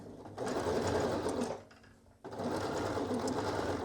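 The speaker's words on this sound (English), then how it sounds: "sewing around the hem of the sleeve" Sewing machine stitching around the hem of a long sleeve of a Cashmerette Wexford top, a steady whirring run that pauses briefly midway as the fabric is turned, then resumes at the same pace.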